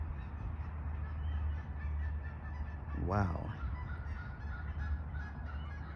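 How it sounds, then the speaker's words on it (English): Geese-like honking from a large flock of ducks gathered out in an open field, a brief loud burst of calls rising over steady outdoor background noise, with a short spoken exclamation nearby. "There is a huge, whatever you want to call that, of ducks out there in that field."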